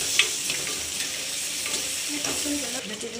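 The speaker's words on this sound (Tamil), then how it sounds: "அதை நல்லா வதக்கிக்கோங்க" Chopped tomato sautéing in a pan while cooking rasam, a steady soft sizzle with occasional stirring scrapes, close and alone without talk.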